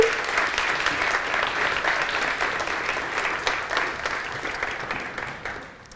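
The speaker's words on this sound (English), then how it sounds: "Give an applause." Sustained audience applause, a dense wash of many hands clapping that holds steady for several seconds before tapering off.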